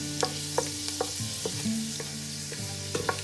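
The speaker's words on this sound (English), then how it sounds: "When it's warm, then I'm going to add the garlic first. Then I'm going to fry 1 to 2 minutes." Garlic frying in warm oil with a steady close sizzle, with regular light clinks of a spoon stirring it in the pan, no voices.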